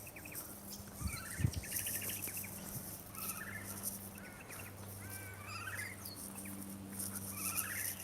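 Unseen birds calling from above, repeated short chirping and trilling phrases scattered over a quiet outdoor background, with a brief low thump partway through and no talking.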